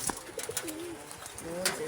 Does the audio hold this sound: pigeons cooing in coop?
yes